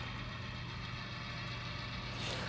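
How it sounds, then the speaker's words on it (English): A stopped locomotive idles in the street during rail switching near a clay plant, giving a steady low diesel rumble with a constant hum throughout, close and continuous, with a brief hiss near the end. "I stopped there for a second in the street to let the brakeman climb on the engine"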